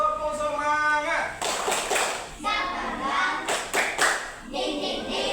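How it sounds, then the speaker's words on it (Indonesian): A class of schoolchildren doing a rhythmic spirit clap, bursts of hand claps in patterned groups alternating with children's chanting voices, fairly close and lively. "Kalau siap, coba dulu tepuk semangat."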